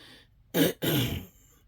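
Two quick, rough throat clearings in succession, close and fairly loud, the second longer than the first, followed by quiet.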